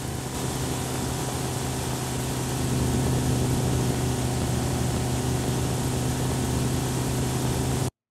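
Synthesized adaptive car engine in FMOD with low EQ automated by RPM and load, a loud continuous droning rumble that swells slightly midway and holds steady before cutting off abruptly.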